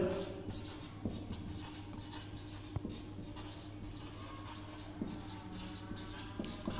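Chalk or marker strokes on a classroom board during a maths lesson on sets of natural numbers, faint scratchy taps scattered over several seconds against a steady low hum.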